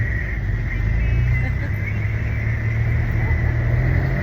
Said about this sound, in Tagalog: Ayan na ang jeep. Diyan tayo sasakay.